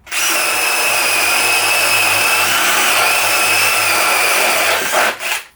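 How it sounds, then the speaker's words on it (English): A cordless Ryobi or DeWalt drill driver bores holes with a spade paddle bit: one loud, steady high-speed whine with a continuous grinding bite, close up, running about five seconds before spinning down, with no talk. "So now it's time for the spade or paddle bit. We'll do 2 holes on each one."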